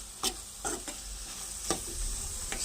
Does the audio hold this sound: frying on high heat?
yes